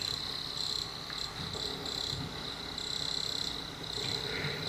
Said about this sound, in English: with the rasping of crickets